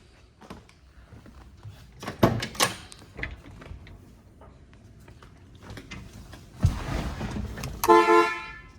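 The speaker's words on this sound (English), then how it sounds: "Horn works" Horn of a 1969 Oldsmobile Cutlass S convertible, heard in two short honks late in the clip, preceded by a few knocks and clunks like a door or latch moving around the car.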